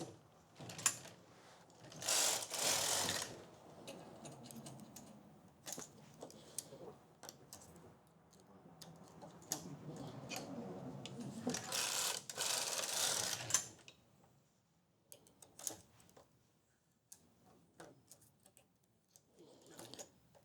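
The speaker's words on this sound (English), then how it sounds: "I keep forgetting to move my carriage over to trip the row counter" Knitting machine at home, its carriage sliding across the bed in two long rasping passes with light clicks and ticks of the row counter between, quiet and close.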